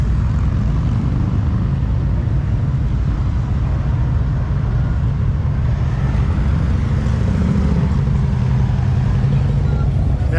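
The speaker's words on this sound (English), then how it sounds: "Some of the bikes rolling through." Motorbikes roll past at the Sturgis rally on a chilly day, a continuous low engine rumble that swells slightly midway, with voices faintly mixed into the steady traffic noise.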